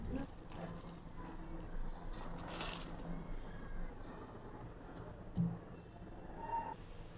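Chopped cauliflower being washed in water, with soft sloshing and dripping splashes at low volume, punctuated by a couple of brief louder splashes.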